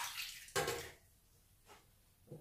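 Beer water is poured into a cooking pot holding a lemon-and-salt-marinated pork loin, giving a short splashing gush followed by a couple of fainter trickles.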